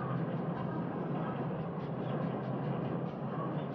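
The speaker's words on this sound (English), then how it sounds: "The first stage is by train, following the gorge of the Kurobe River." A train travels along the Kurobe River gorge with a steady, muffled rumble of wheels and carriage noise, even and continuous throughout at a moderate, enclosed distance.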